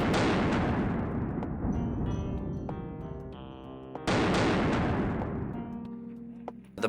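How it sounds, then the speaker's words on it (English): A single loud rifle shot fired at a target in a shooting competition, heard as a sharp blast with a long decaying echo, followed by a second similar report about four seconds later. "and then take the shot"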